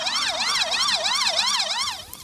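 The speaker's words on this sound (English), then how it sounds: "Sirens loud enough and the empty streets give an even more telling signal of these unusual times." Emergency sirens wail loud and steady in a locked-down city with empty streets, rising and falling in a regular two-tone sweep that continues almost without break before easing off at the end.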